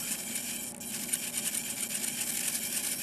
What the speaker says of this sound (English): you can hear the servos moving